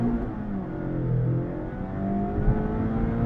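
A 2021 Mazda MX-5 Miata Club with a manual gearbox and the top down accelerates at full throttle, its steady engine drone and harmonics climbing gradually, heard from the cabin with no talking.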